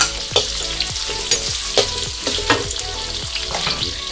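Green chillies stir-fried in a pan for a homemade kway teow, a steady sizzle broken by a metal spatula scraping and tossing about every half second, close and moderately loud with no voices.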